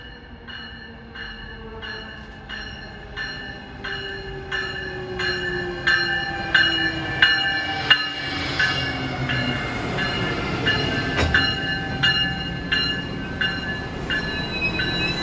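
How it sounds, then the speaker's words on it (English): A Bombardier push-pull passenger train approaches on the Keystone Corridor, rumbling nearer with rhythmic wheel clicks over rail joints, sustained horn-like tones and faint squeals, loud and close, no talk. "approaching Malvern westbound at 5:49 is train 9593, Philadelphia to Thorndale. Another push-pull, aka bomber train."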